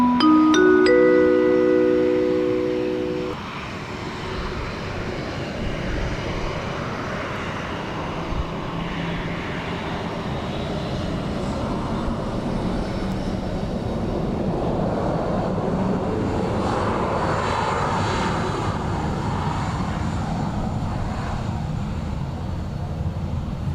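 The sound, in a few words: Ryanair airliner arriving at Dublin Airport in crosswind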